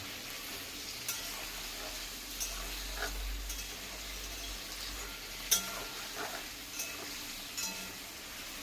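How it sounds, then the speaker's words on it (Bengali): Chicken masala frying in a pan, a steady soft sizzle running throughout with a few faint clinks and stirring scrapes scattered across it, no voices present. "এর জন্য ভালোভাবে ফ্রাই করতে হবে।"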